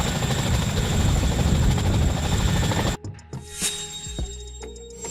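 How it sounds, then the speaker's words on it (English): A military transport helicopter thunders close by with a dense, rapid rotor chop for about three seconds, then cuts off abruptly, leaving softer mechanical whines and clanks. "A military helicopter used to transport soldiers, equipment, and military supplies."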